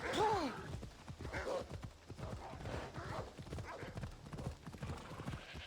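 Horse hooves clip-clop steadily through Assassin's Creed Odyssey gameplay, opening with a sharp whinny; the hoofbeats stay fairly close and continuous, with bits of speech-like sound faintly mixed in.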